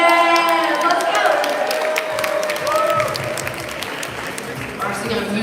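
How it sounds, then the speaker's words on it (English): Guests at a wedding reception applaud and cheer for the aunties' dance as the music fades, with clapping building under whoops and whistles and voices mixed in. "Round of applause for the aunties dance."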